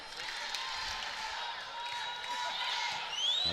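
Home crowd at a Hawaii women's volleyball match against LSU, a steady roar of cheering and noise in a large arena, growing louder toward the end, with a commentator talking over it.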